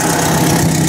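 Ford 800 tractor engine running steadily up close, a continuous loud idle with a low rumble and even vibration, no talk over it.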